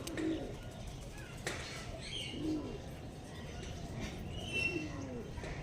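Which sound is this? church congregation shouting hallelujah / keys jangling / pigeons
pigeons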